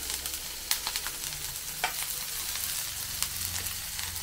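Food frying in mustard oil in a Bengali home kitchen: a steady, close sizzle with a few sharp clicks and scrapes of a utensil against the pan.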